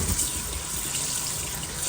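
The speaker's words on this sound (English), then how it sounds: "It is super hot, so I'm going to run cold water over it as I handle it." A kitchen tap runs cold water over freshly boiled spinach in a sink, a loud, steady rushing splash that fills the short stretch on its own.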